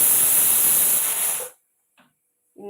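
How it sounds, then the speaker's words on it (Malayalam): A loud, steady hiss of steam like a pressure cooker venting, cutting off abruptly after a second and a half, followed by near silence and faint clicks. "കുക്കർ അടുപ്പത്ത് വെച്ചിട്ടുണ്ട്"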